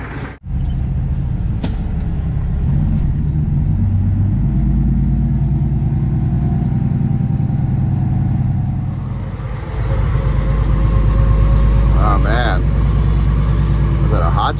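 A semi truck's diesel engine warms up at idle, a steady deep rumble running throughout that swells louder and rougher for the last few seconds.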